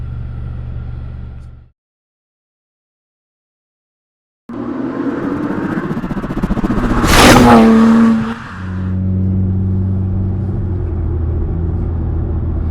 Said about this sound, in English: hear that? Race car.